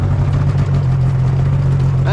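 A 2005 Arctic Cat Firecat F6 snowmobile with a clutch problem runs up close and loud, its engine giving a steady low hum while the track turns, a voice talking over it.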